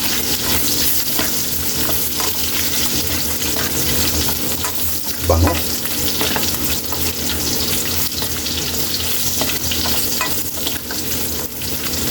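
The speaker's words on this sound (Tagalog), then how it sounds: "Unahin natin yung bawang. Igisa natin kaili." Garlic sautéing in a pan for Filipino adobong sitaw, a steady, close sizzle and frying hiss running continuously with a brief louder stir partway through.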